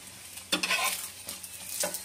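Paratha frying on a hot pan while a spatula presses it down, giving a steady sizzle with a few sharper scraping bursts of stirring and pressing, close and clear, no talking.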